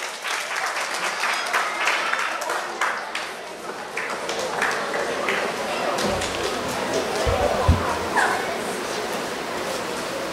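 An audience at a schools craft display and prize-giving ceremony breaks into sustained applause, with a dog yipping in the background and some talk over the clapping.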